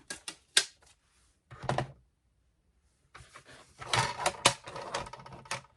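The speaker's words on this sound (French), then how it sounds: "je vais utiliser mon petit massicot" A small paper trimmer slices through card stock in several sharp clacks and scrapes, first a few quick cuts and then a denser flurry of cuts after a short pause, close and moderately loud with no voices.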